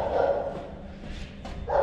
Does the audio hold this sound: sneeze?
no